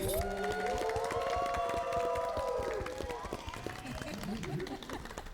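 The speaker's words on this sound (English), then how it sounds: "I want to give a big round of applause for her once again" A crowd claps rapidly while voices whoop and cheer over the applause, which fades toward the end.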